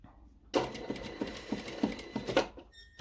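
A sewing machine stitches fabric along a seam in a close, rhythmic run of quick mechanical thumps and clatter lasting about two seconds, preceded by a faint hum.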